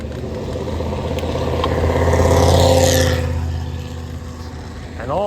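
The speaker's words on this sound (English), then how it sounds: "And all this traffic, which never ends" Steady car traffic rumbling along a road during a June ride, engines droning and swelling as vehicles pass close by, then easing slightly toward the end.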